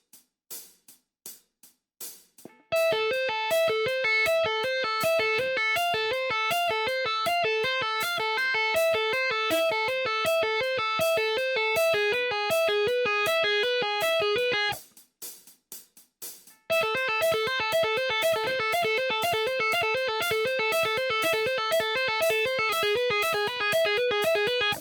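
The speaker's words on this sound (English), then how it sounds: "put the distortion on for this one because tapping always sounds better with a bit of distortion" An electric guitar with distortion plays a fast finger-tapping exercise, rapid repeating arpeggiated notes in an even stream that cuts off briefly midway and then resumes, clear and alone.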